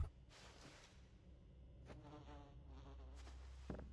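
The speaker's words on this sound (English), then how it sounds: "those bees are still making bee noises" Bees in an alien-themed video game buzzing in faint, short bursts against a quiet background, with a louder knock right at the end.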